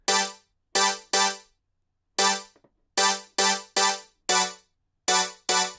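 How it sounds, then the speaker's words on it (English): Bright saw-wave chord stabs from the Wavy polysynth preset in Logic Pro X's Expand library, about ten short punchy hits in a syncopated house rhythm with gaps between, played alone without talk. "I wanted the body of the sound to be a saw wave, so I got this one synth from Expand as well called Wavy under the Polysynths"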